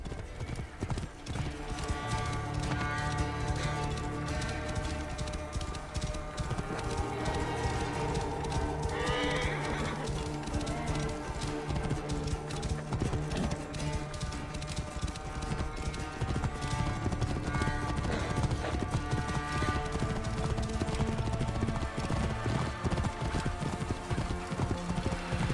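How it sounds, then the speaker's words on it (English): Horse hooves clip-clop steadily in Assassin's Creed Origins, a brisk rhythmic trot running throughout, with a brief neigh and game music underneath and a voice speaking at points. "This must be Mered's horse."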